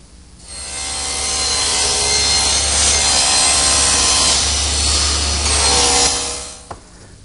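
Table saw ripping a wood board against the rip fence: the motor hums, then a loud, steady cutting whine and rasp runs for several seconds before the blade clears the board and the sound drops away.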